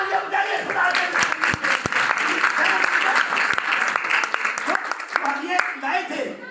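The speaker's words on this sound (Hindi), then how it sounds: "तालियां बजाइए खुदा के।" Congregation applauding during a Christmas church service, loud sustained clapping throughout with a preacher's voice over it.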